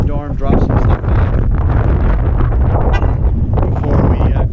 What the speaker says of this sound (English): So it is cold and windy. The wind has really picked up.